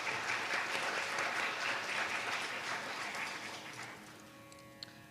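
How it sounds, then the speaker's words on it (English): An audience applauds after a Bharatanatyam dance piece at an arangetram, a steady, even wash of clapping that gradually fades over five seconds, with no voices over it. "Another round of applause."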